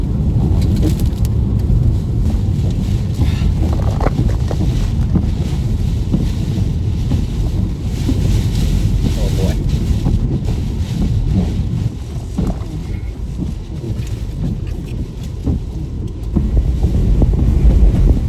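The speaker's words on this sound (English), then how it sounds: "Golf ball size hail would be propelled sideways against my car by winds reaching nearly 150 kilometers an hour nearly pushing my vehicle over" Sideways-driven golf-ball-size hail and winds near 150 km/h batter a car during a storm near Rosemary, a loud, continuous roar of wind buffeting with dense pelting impacts throughout; a brief exclamation is heard.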